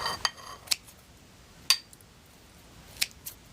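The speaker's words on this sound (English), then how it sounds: "I'm gonna take some food scissors to it" Food scissors snipping through cooked food with skin, a few sharp isolated metallic clicks spaced irregularly, close and fairly quiet against a faint room background.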